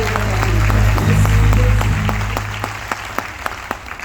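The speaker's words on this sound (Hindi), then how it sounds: "जोरदार ताली होनी चाहिए।" Audience applause at a network-marketing team event, with scattered claps sounding over a loud low hum and muffled crowd noise, then sparse sharp individual claps as it thins out.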